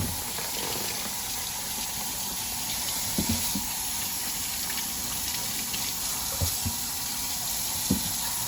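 Tap water running steadily into a sink while potatoes are washed under it, a constant close splashing hiss with occasional soft knocks and thumps of the potatoes.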